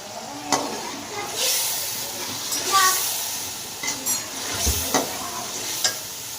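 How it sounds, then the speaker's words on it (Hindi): Whole cumin, black pepper, cloves and cinnamon roast in a hot pan for a pulao, giving a steady sizzle and frying hiss with occasional stirring clicks and scrapes, close and moderately loud throughout. "मसालों को ना हमने 1 मिनट तक अच्छे से भून लेना है"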